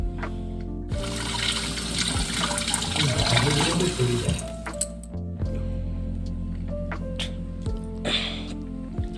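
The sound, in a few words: washing blueberries under running tap water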